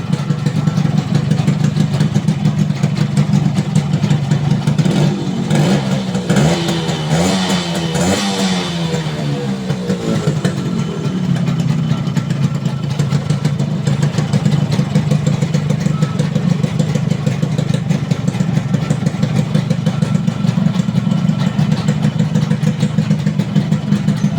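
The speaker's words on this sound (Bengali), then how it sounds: "বাইকগুলো সাউন্ড আপনাদেরকে আমরা দেখাচ্ছি তো সাউন্ডগুলো দেখেন" A Yamaha RX 100 motorcycle engine runs steadily throughout, with a rev rise and fall in the middle before settling back to a loud, continuous idle; no talking.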